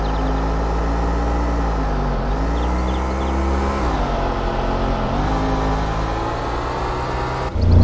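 A racing car engine in Need for Speed 4 Hot Pursuit, likely the Lamborghini Diablo SV, drones loud and steady with small pitch dips as the revs shift, swelling suddenly at the very end.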